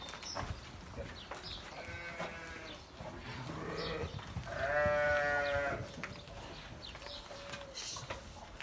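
Several sheep bleat in a village pen during hand milking, with wavering calls spread through the clip, the loudest and longest near the middle, over a low rustling farmyard background and birdsong.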